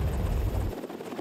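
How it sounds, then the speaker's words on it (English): A rescue helicopter built for hurricane-force winds passes with a heavy, pulsing rotor thump that drops away sharply partway through, leaving a thinner whirring drone. "These helicopters are made to take off and fly in winds that can exceed 100 miles per hour."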